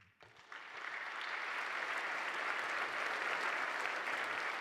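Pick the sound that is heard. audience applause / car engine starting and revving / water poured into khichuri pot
audience applause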